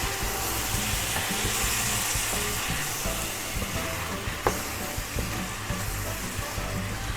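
Sausages and potatoes frying in beer in a pan, a constant loud sizzle with scraping and clinking as the food is stirred and mixed, one sharp knock midway, heard close up.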